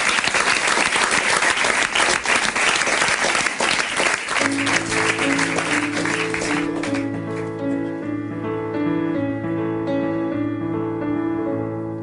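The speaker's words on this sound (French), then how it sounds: "on l'applaudit très très fort, s'il vous plaît" A TV-show studio audience applauds a singer with steady, sustained clapping; partway through, her song's music enters and builds beneath the fading applause until the instruments carry on alone.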